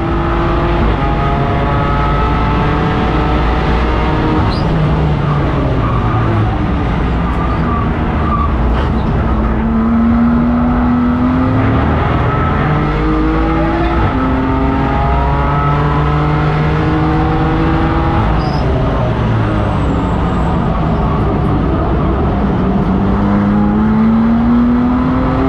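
A race car on track at full racing pace gives a loud, continuous engine roar whose pitch repeatedly climbs and then drops at gear shifts, heard close as if from on board.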